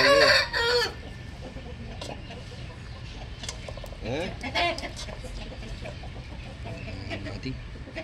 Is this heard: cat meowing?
no